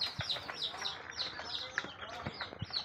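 Young chicks peep in a rhythmic series of high, faint chirps while being vaccinated one by one and placed in a coop, with occasional soft clucks and handling knocks.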